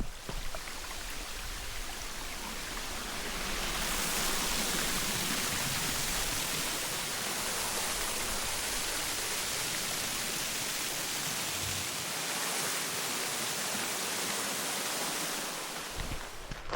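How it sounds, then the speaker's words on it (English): A waterfall in the woods near Banning's Quarry pours into a pool with a constant, dense roar of falling water, steady and fairly close, with no voices over it. "it has a nice flow into a very idyllic pool"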